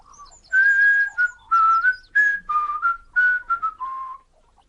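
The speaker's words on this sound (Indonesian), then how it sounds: "Don sedang bekerja di kebun sambil bersiul." A person whistles a lively tune of short, bright notes in quick phrases while working in a garden, clear and close with no other sounds.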